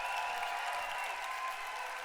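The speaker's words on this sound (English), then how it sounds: "Can we get a big round of applause for Dr. Rangan Chatterjee?" Audience applause at a live wellbeing event, a steady wash of clapping from a large crowd heard at a moderate distance, fairly quiet and continuous for a couple of seconds.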